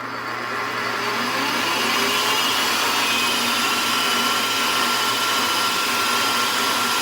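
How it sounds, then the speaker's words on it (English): A lathe spinning at over 2,000 RPM gives off a loud, constant whirring drone with a high whine, steady throughout and with no voices over it. "This lathe that I'm running here"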